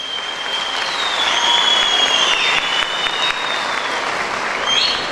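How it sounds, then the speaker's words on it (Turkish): A crowd at an AK Party candidate introduction meeting in Hatay gives a big round of applause for the party's women's branch members. The clapping is loud, dense and continuous, with faint tonal squeals running through it. "AK Dava arkadaşlarıma büyük bir alkış istiyorum."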